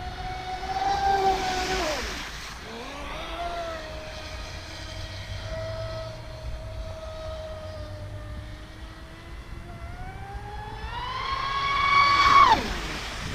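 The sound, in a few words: Traxxas Spartan RC boat at full throttle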